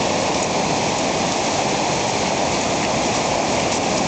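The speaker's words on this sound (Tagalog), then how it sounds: "Oh, lakas ng alon dito." Steady, loud rushing of strong sea waves at a beach in Morong, Bataan, fills the whole stretch, a dense broadband wash with no breaks, heavy surf churning close by.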